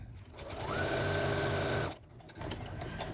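Sewing machine stitching a quilt block for a log cabin table runner sewn quilt-as-you-go, running in one steady, close burst of about a second and a half before stopping, with quieter handling sounds around it.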